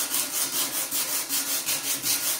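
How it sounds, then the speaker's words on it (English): Steady rhythmic abrasive scraping, a sanding disc grinding across the metal rack of a 2003 Bombardier Quest 650 ATV in regular back-and-forth passes, close and fairly loud with no talking. "and sand down all these spots."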